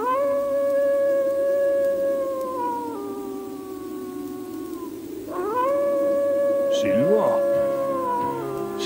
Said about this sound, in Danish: Hør I, hvordan han hyler?